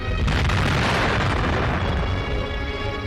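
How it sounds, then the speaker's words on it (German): A loud explosive charge blasting rock-hard frozen earth on the wartime Eastern Front, one deep booming roar that fills the whole moment and rumbles on without a break. "Wo die Spitzhacke versagt, muss gesprengt werden."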